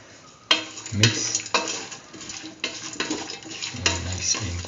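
Several bursts of stirring and scraping kidney bean and chayote stew inside a pot, each a second or so long, close and fairly loud, with a faint wet sloshing.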